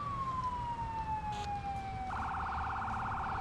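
Fire engine siren in the video game Firefighting Simulator, a wail gliding slowly downward and then switching to a rapid yelp, steady and moderately loud over a low engine rumble.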